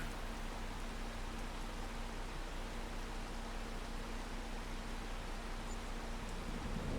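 Rain falls steadily in Farming Simulator 25 as an even, unbroken hiss of moderate loudness, with a faint low hum beneath and no voices.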